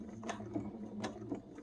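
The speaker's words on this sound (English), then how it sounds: "now I'm going to come over here and sew again." A sewing machine stitching a cloth face mask gives a faint, quiet mechanical whir with soft rhythmic ticks repeating about every third of a second, heard alone.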